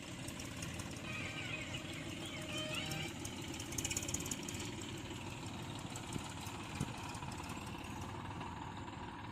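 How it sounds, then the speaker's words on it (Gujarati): A tractor engine idles and rumbles steadily in a village field, a low continuous drone at moderate distance with faint background noise. "જો ટ્રેક્ટર નીકળ્યું"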